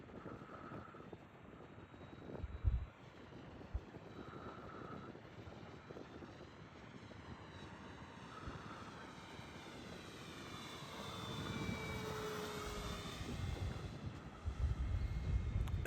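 An FMS P-47 Razorback 1.5 m electric RC airplane carrying drop tanks flies overhead on its maiden flight, its motor whine rising and falling with Doppler sweeps as it passes, far then nearer, under light wind.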